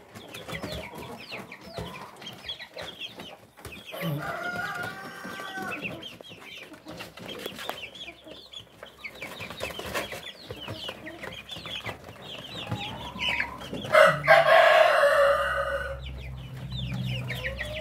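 Rhode Island Red chickens on a farm cluck and chatter close by, one-month-old chicks among them, with a busy mix of calls and a loud burst of crowing partway through; no talk.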